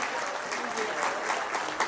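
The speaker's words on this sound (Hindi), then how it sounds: "जोरदार तालियां हो जाए उनके लिए" Audience at a police line boys' get-together gathering breaks into sustained, dense applause, a steady roar of many hands clapping throughout.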